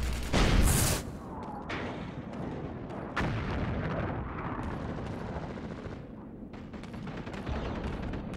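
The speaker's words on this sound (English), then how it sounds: "I guess I gotta take out that big gun." Heavy gunfire from a big gun in the video game Rogue Trooper, a loud booming blast at the start followed by rumbling, continuous battle noise with scattered shots and impacts.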